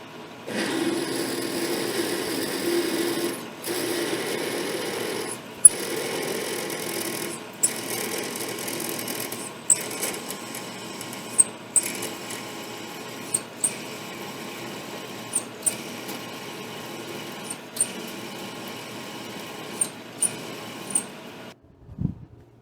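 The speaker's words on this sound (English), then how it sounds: "So just go in there and drill the chamber" Drill boring out the breech chamber of a Bartlein rifle barrel on a lathe ahead of reaming, a steady machine whine and hum with a string of sharp periodic clicks and ticks, ending abruptly.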